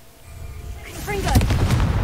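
A booming Confringo blast spell in the Hogwarts Legacy game, a near, loud explosion swelling after a short quiet lead-in and rumbling on with crackling debris to the end.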